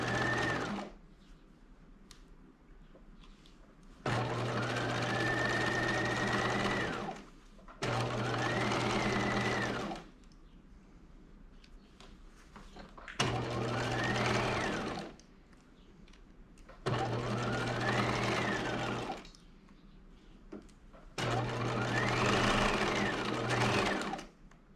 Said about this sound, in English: We're just basting right now.